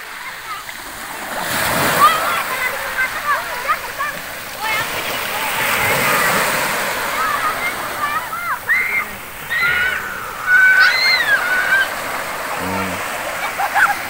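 Water splashing at a beach during a family gathering at Grand Elty Krakatoa, a loose sloshing wash of splashes under nearby talking, with high voices calling out and scattered bursts of activity.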